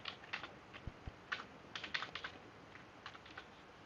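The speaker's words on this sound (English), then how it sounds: "then type something here, username" Computer keyboard keys tapped in short irregular bursts while a username is typed at a login page, crisp close clicks alone with no voices.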